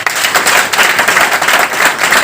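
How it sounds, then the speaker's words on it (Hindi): A crowd gives loud, sustained applause in a meeting hall, with many hands clapping in a thick, continuous roar that never lets up. "मेरे सभी गुरुजनों के लिए एक बार शानदार तालियां।"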